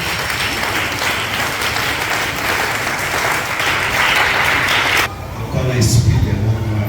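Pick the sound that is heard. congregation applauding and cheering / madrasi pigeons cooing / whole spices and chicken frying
congregation applauding and cheering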